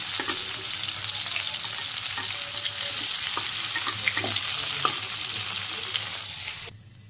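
Cauliflower frying in hot oil in a village kitchen, a steady loud sizzle with occasional scraping stirs that carries on throughout and then cuts off abruptly near the end.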